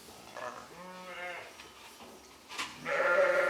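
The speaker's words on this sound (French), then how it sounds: "Anaïs, éleveuse, fait le tour de ses brebis" Ewes bleating on a sheep farm on the Causse plateau above the Tarn gorges, several wavering bleats at close range with rustling and a louder burst of bleating near the end.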